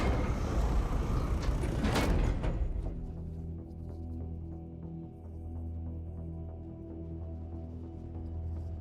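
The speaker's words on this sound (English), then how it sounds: "In the name of the Emperor, open the doors!" Massive doors grind open in Warhammer Space Marine 2: a loud rumbling scrape for about two seconds, then a steady low mechanical hum and throbbing drone with faint rhythmic clanks as the heavy doors keep moving.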